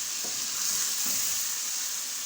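Chicken pieces fry with two tablespoons of ginger garlic paste in a pan for korma, a steady, close broadband sizzle with faint stirring scrapes underneath and no talking.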